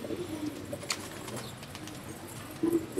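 Pigeons coo softly in a loft or coop, a few low burbling calls rising and fading over faint background noise.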